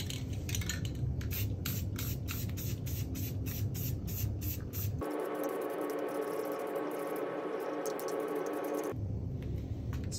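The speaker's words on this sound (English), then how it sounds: "then we're just gonna spray this white paint right over top of it" White paint sprayed from a can onto a goose silosock decoy, giving a steady hissing spray that runs continuously and close, with a brief change in tone partway through and no talking.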